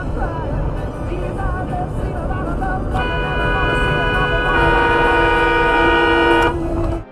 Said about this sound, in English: she lays on the horn in protest